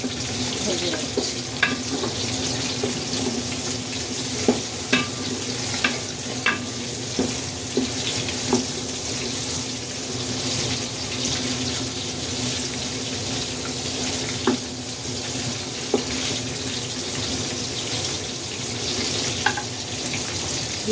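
Cauliflower and onion frying in a pan for vegetable pulao, a low steady sizzle broken by occasional clicks and stirring knocks, with no talk.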